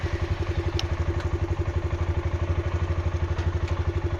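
A 2019 Suzuki KingQuad 400 FSI ATV idles in gear in four-wheel low, its engine putting out a steady, even low thumping pulse with faint clatter, close and unbroken for the whole stretch.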